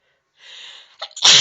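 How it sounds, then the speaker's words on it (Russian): A woman sneezes once, loudly and up close, after tickling her nose with a stick; a short sharp intake leads into the explosive burst at the end. "С помощью палочки пытаюсь чихнуть."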